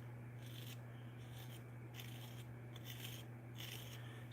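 Clay cup being trimmed on a turning pottery wheel, a faint continuous scraping rasp that rises and falls in a regular rhythm over a steady low motor hum.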